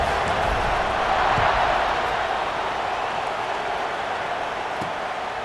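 A stadium crowd roars steadily in EA Sports College Football 26 ahead of a kickoff, a broad, continuous cheer at even loudness with a couple of faint thumps underneath.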